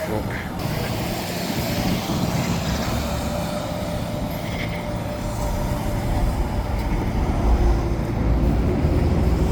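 A SkyTrain rumbles overhead beside a busy bus station, with a broad, continuous low roar of rail and bus traffic holding steady and swelling slightly near the end.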